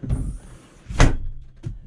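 Cab door of a Kioti DK40 SE tractor swinging shut, a few dull thunks with one firmer closing impact near the middle, close and alone.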